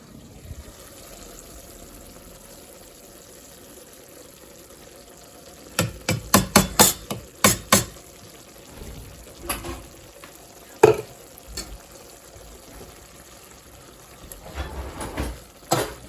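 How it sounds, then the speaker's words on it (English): Chili ingredients stirred in a pot: a run of sharp scraping and clinking strokes in the middle, a few scattered knocks later, and another burst near the end over a quiet background. "and stir and well combine"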